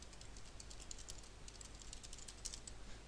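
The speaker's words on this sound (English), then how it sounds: "I'm gonna type it actually for you to see." Fingers tap quickly and lightly on a computer keyboard, a faint run of soft clicks that continues steadily without any voices.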